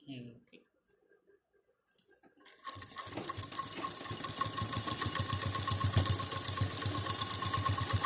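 Sewing machine stitching fabric for a lehenga with frills, starting after about three seconds of near-silence and a brief voice, then running as a steady, close, rapid mechanical whir to the end.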